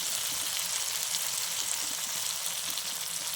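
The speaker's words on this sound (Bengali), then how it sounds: "সব কিছু ভাজা হয়ে গেল প্রায়" Taro stolons (kochur loti) frying in a pan with tomato produce a dense, even, hissing sizzle that stays unbroken and fairly loud throughout, with no one speaking.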